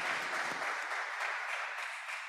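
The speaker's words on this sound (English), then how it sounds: "So I want to give you an applause." An audience at an outdoor church gathering applauding, a dense, even wash of many hands clapping that holds steady and then begins to taper off, with no speech over it.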